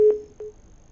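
Telephone tone after a call is cut off: a steady tone with two short beeps, fairly quiet and heard alone.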